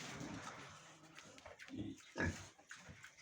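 Pigs grunt and squeal close by in a noisy barn where a sow has just farrowed, several overlapping snorts with one louder burst near the end.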